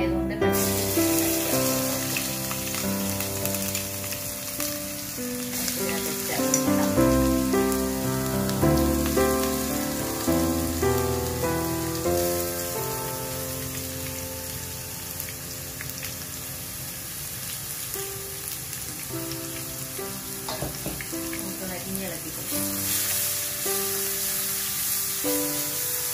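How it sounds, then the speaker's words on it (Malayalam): A paste of garlic, ginger and green chili fries in a pan for a beef curry, giving a continuous, rain-like sizzle that stays fairly loud and even throughout, with no speech over it. "നമ്മുടെ വെളുത്തുള്ളി ഇഞ്ചി പച്ചമുളകും ഒക്കെ നന്നായിട്ട് വഴട്ടി വന്നിട്ടുണ്ട്"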